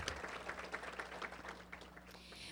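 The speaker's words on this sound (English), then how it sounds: "Can we give them a round of applause?" Diners at an annual dinner applaud the catering team with a steady round of many hands clapping, moderately loud and continuous through the clip.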